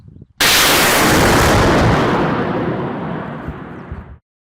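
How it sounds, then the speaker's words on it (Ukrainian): A rocket fires with a sudden powerful blast that erupts into a loud sustained roar, slowly fading over several seconds before cutting off. "Остання ракета готова відправитись до росіян."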